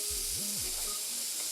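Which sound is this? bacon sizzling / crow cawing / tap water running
bacon sizzling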